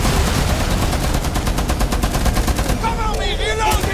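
A DP-28 machine gun in the video game Rainbow Six Extraction fires a sustained, rapid, evenly spaced burst, loud and close, with a voice talking near the end.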